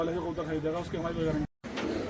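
Soft, low coos from patterned Kalsara pigeons murmur throughout, overlapping with someone talking nearby.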